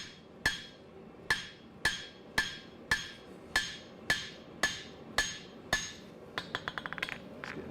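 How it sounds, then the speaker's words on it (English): Hot steel is hammered on an anvil while forging a bark spud: about a dozen loud, ringing blows land at a steady rhythm, ending in a quick flurry of lighter, bouncing taps. "I'm trying to keep most of the steel off the anvil. I just hit one spot and move the steel."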